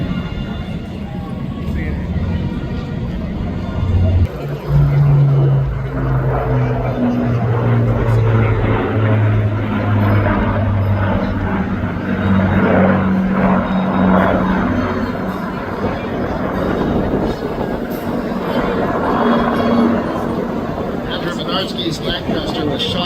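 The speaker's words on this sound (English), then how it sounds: "they're using the exact same engines that the P-51 Mustang used" An Avro Lancaster bomber with Rolls-Royce Merlin piston engines drones overhead at an air show, rising to a loud sustained roar and then fading, with someone talking over it throughout.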